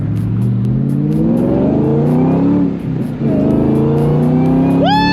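A supercharged 2003 Terminator Cobra revs hard up close, the exhaust rising and falling through two long pulls while supercharger whine climbs with the engine, then a sharp final blip at the end.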